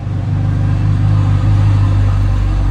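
A McLaren 720S supercar, put into drive, moves off with a loud, steady, close engine rumble that holds an even low drone and rises slightly partway through.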